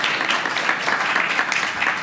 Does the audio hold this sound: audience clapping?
yes